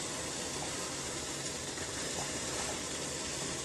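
Steam hissing steadily from a loosely fitted pot lid on a home water distiller, a continuous broadband rush that stays even and close throughout with no talking.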